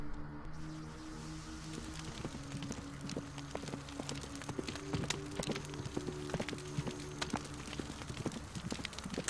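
Horse hooves stomping in the video game Pesadelo Regressao, a run of irregular clip-clop thuds over a faint, steady background, fairly quiet throughout.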